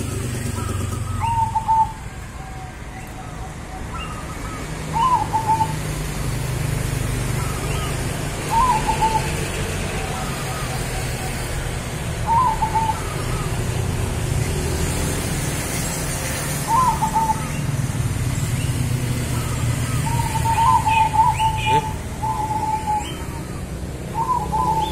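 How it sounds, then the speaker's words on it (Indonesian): Zebra doves (perkutut) perched beside a roadside keep up a rhythmic cooing song, short repeated phrases every few seconds over steady traffic rumble and background hiss, moderately near. "Padahal di pinggir jalan loh dulur, tapi perkutut itu tetap manggung."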